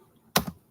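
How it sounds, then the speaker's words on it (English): Computer keyboard typing: two quick, close clacks of keys pressed in a quiet room. "what are you typing?"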